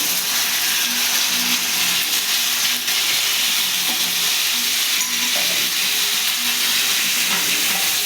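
Ginger and cumin paste sizzles loudly and steadily in hot mustard oil in a pan, a dense, close crackling hiss that holds for several seconds with faint stirring.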